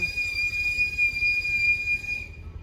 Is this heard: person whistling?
yes